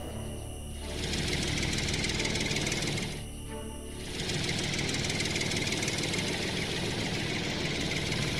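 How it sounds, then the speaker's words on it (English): A tractor engine chugs with a rough, knocking rhythm, close and steady, briefly easing off twice before settling back into its heavy running drone. "Tractor."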